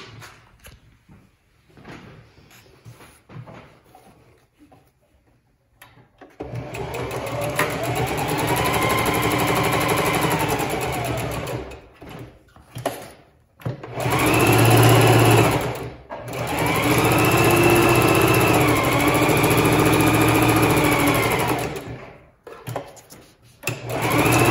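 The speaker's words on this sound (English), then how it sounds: "I'm sewing a little shy of a half inch here" A sewing machine stitches the seams of a fabric notebook cover in several long runs, a steady close whirring hum broken by short pauses and faint handling noises between passes.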